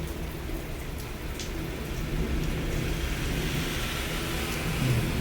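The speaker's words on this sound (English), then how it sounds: "most of this video is like rain, thunder, and well, mainly lightning" Steady rain during a Canadian thunderstorm, a continuous dense hiss of drops on surfaces with a low rumbling undertone, fairly loud and unbroken throughout, with no voices.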